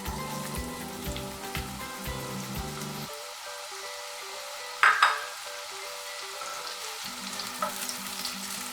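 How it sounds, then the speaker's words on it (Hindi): Onions sizzle steadily in hot oil, a constant crackling hiss with a brief clatter of utensils partway through. "थोड़ा सा ऑयल गर्म हो जाए, अब इसमें प्याज ऐड कर देते हैं।"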